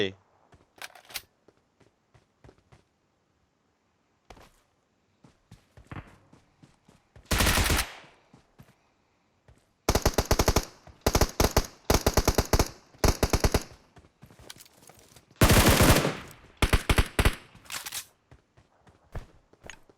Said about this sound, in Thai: ไม่ต้องยิงหลายนัดขนาดนี้